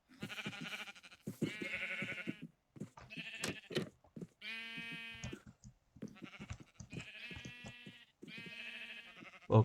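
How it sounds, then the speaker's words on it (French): Sheep in the Minecraft video game bleat over and over, several loud, close, wavering cries following one another with short gaps and no talk. "Taisez-vous les moutons."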